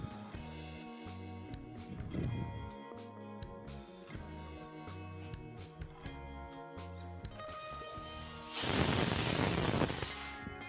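A pressure cooker of lentils and potatoes with turmeric, sugar and water lets out a loud, steady hissing whistle near the end, after a stretch of quieter cooking sounds.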